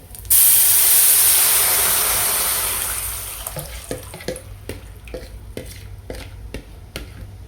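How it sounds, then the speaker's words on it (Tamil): Prepared horse gram rasam poured into a hot pan with asafoetida sets off a loud, hissing sizzle that slowly fades over a few seconds, followed by a series of light, regular stirring clinks. "கரைச்சி வச்ச ரசத்தை இதில் ஊற்றிக்கிறோம்"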